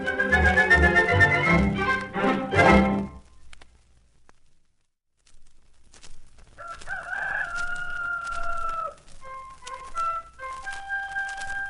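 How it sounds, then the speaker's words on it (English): A loud, close rooster crow with several harmonic bursts, then a pause, followed by softer, higher bird-like calls and clucks. "Pat heard the rooster crow in the morning"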